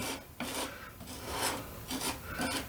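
Wood putty is rubbed and pressed into a small nick on a baseboard, giving close, dry rasping strokes in short repeated bursts with no talking.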